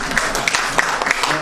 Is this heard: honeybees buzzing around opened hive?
no